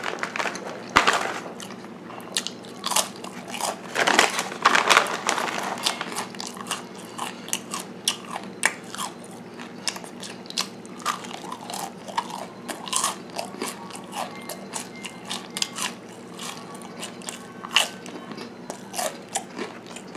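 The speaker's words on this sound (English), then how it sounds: "Let's have the rest of our Thai crackers." Crunchy Thai rice crackers topped with spicy pork floss being bitten and chewed close to the mic, with repeated sharp crunches and crackles in an irregular rhythm throughout, no talking.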